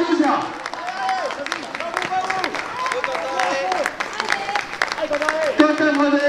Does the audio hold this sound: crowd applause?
yes